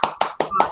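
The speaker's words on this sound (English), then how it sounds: "Reality's Temple round of applause" Short bursts of audience applause greet a guest on a live talk show, about four sharp claps spaced evenly and close, with a faint tone lingering under the last one.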